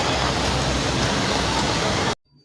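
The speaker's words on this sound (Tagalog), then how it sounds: "Lakas ng ulan." Heavy rain pours down during street flooding near Quiapo Church in Manila, a dense loud wash of noise that cuts off abruptly near the end.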